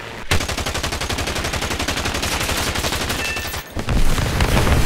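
Twin 20mm gun pods on a Stuka Ju-87 D-5 in the War Thunder combat flight game fire one long, rapid, loud burst of cannon rounds, pause briefly, then open up again.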